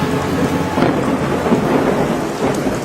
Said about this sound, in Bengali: আচমকা চারিদিক আলোকিত হয়ে বিকট শব্দ করে মোড়লের উপর বাজ পড়ে।